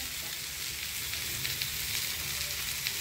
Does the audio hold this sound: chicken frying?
yes